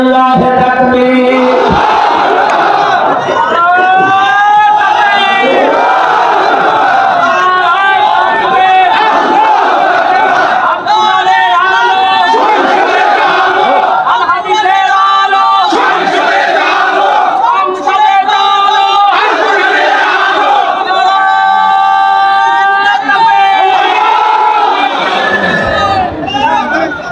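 A large crowd at an outdoor Islamic sermon gathering in Nilphamari roars a chanted takbir, loud rhythmic massed voices repeating in waves over about half a minute, with a preacher's call heard at the start.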